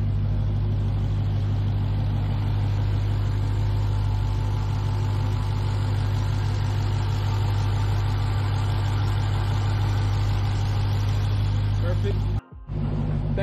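A 2021 Dodge Challenger SRT engine idles steadily with a deep, constant rumble for about twelve seconds, then cuts off abruptly before a brief restart.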